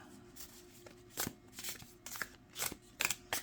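Cards are shuffled in several quick bursts, crisp flapping riffles repeating irregularly, fairly quiet and close, with no voices.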